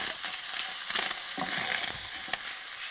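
A spoon stirs a dry mint mixture in a hot pan for samosa filling, with close scraping and rustling over a steady sizzle.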